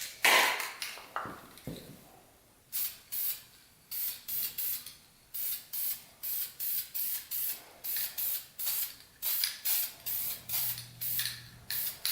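Spray paint hissing onto a Honda CR80 engine head and cylinder in about a dozen short, even bursts with brief pauses between them, close and fairly loud with no talking.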